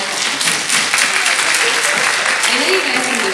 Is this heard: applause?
yes